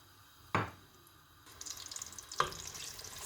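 Diced onion dropped into hot oil for an oxtail stew base, a sharp splash-hiss of hitting the pan followed by crackling sizzle and a second burst as more goes in, fairly faint and close.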